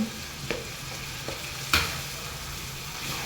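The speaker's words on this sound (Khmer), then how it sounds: "ដល់ពេលដែលចាក់ត្រប់ចូលនេះទៅថយភ្លើងតិច" Chopped vegetable is poured into a pan of frying minced pork and stirred, giving a quiet, steady sizzle broken by a few sharp utensil scrapes and clacks against the pan.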